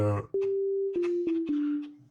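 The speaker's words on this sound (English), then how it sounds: "this is just sine wave" A pure, steady electronic sine tone holds a single low pitch, briefly broken by small clicks as it is retriggered, clean and close.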